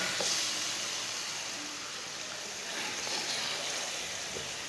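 Chicken and potatoes frying in a masala for aloo chicken curry, a soft, steady sizzle heard up close with no talking.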